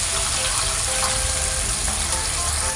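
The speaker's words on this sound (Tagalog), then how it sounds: "Ilalagyan ko rin ito ng kaunting tubig" A small amount of water pours steadily into pork igado as it cooks, a continuous wash of liquid with no pauses and no voices.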